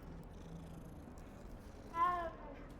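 A single short cat meow rises over quiet background hum in the video game Hogwarts Legacy, clear but soft and close.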